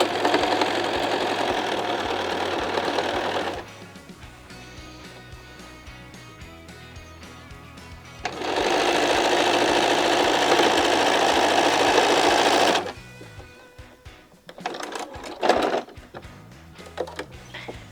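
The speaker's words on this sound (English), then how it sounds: "You just continue sewing on the last quadrant." A sewing machine stitches the last quadrant of a quilt block in two steady close runs of rapid mechanical whirring, separated by a quieter pause with fabric handling.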